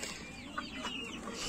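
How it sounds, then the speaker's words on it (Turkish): Chickens cluck softly and intermittently against a steady, hissy background, sounding somewhat distant and faint. "Şimdi bu tavukları buraya aldık."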